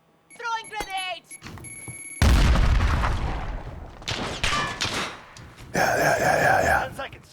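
Grenades bursting in Call of Duty: Modern Warfare, heavy booming blasts with rumbling tails and a second explosion a few seconds later, mixed with in-game voice and effects.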